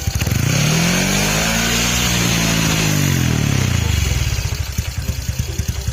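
A close motorcycle engine revs hard from a small throttle twist, its pitch sweeping up and falling back, then settling into a loud, rough idle with a throbbing, popping exhaust.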